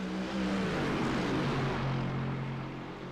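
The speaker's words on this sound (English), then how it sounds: "Great sound though from this car, absolutely love it." A GT race car engine at Circuit de la Sarthe roars steadily and loudly throughout, a sustained engine drone with a slight pitch shift midway, with no talk over it.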